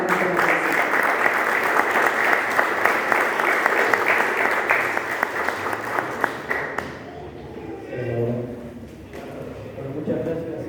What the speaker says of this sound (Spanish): El público le regala este aplauso